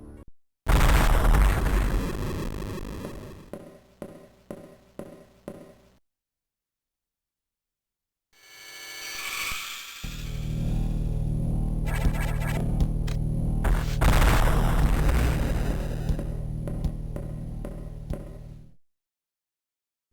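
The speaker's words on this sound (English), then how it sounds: "An explosion has rattled the station" Explosions rattle the BSL space station in the Metroid video game: a loud burst breaks into a rapid stutter of blasts, then after a pause a long, heavy rumbling roar swells and holds before cutting off.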